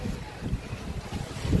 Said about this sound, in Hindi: बहुत ज़्यादा तेज़ हवा चल रही है, पूरी अंधी तूफान के साथ।